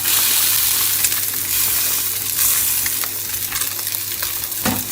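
A seabass fillet sizzles loudly in a hot frying pan, with a steady close crackle of oil and occasional pops and stirring sounds, no voices.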